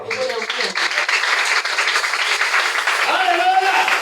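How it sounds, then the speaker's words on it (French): Church congregation breaking into applause and cheers during a French-language sermon, a dense burst of clapping with raised voices running throughout, the preacher's voice rising over it near the end. "On acclame cette parole."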